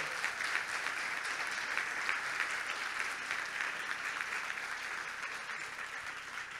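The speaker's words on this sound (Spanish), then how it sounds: "Ahí está, lo pueden aplaudir." A large audience at a political talk in Luján breaks into steady, dense applause that holds at an even level throughout, without any speech over it.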